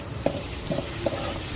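Finely chopped tomato being stirred in a pan, with three soft scraping clinks from the spoon at roughly even spacing over a steady low sizzle, close by and with no talking.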